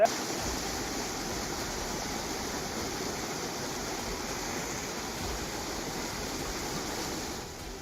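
Floodwater after heavy rain in Karnataka, with a canal bank burst and crop fields drowned, rushes in a continuous, even roar of churning water that stays steady throughout with no voices.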